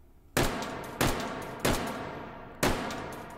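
Four single shots from an L85A2 rifle in the virtual reality shooter H3VR, each a sharp loud crack with a short decaying echo, fired at uneven intervals of about a second apart.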